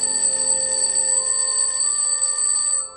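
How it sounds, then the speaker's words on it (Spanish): An alarm clock rings continuously with a bright, steady metallic tone, loud and close, then cuts off abruptly near the end. "lo siguiente que noté fue el sonido de la alarma de mi despertador"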